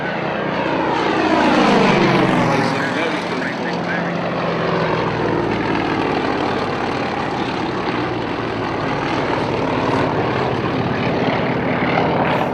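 Radial-engined Yak-52 trainer aircraft at an air race, its loud propeller drone swelling then holding steady as it passes close and continues overhead, with no talk.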